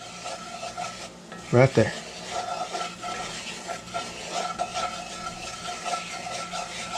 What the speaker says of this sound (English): And with that there oil, we're going to get stirring that on up